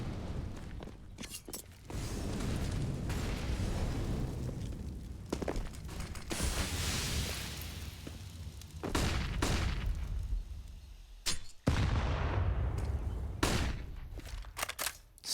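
Grenades explode and guns fire in a professional Counter-Strike match between Na'Vi and Furia at DreamHack Masters Spring 2021. Loud bursts and crackling gunfire come in rapid clusters, broken by brief gaps.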